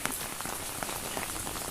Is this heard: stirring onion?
no